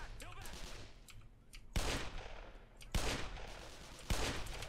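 Shotgun blasts in the Black Mesa video game, three loud, evenly spaced booming shots over game background noise, with faint voices underneath.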